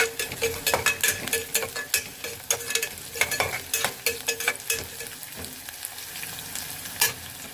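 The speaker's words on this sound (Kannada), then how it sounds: "ಈರುಳ್ಳಿ ಸ್ವಲ್ಪ ಫ್ರೈ ಆಗಬೇಕು. ಲೋ ಫ್ಲೇಮಲ್ಲಿಟ್ಟು ಫ್ರೈ ಮಾಡಿ." Chopped onion and green chilies frying on low flame in a home kitchen pan, with a steady soft sizzle broken by repeated sharp scraping stirs of a spatula, close and fairly loud, no talking.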